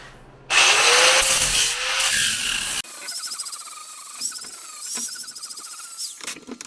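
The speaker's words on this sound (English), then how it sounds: "Then I'll run the grinder on that." A power grinder works on the front door of a 1982 air-cooled VW Vanagon Westfalia during restoration, starting with a loud continuous whine and then shifting to a grinding and scraping sound with intermittent bites against the metal.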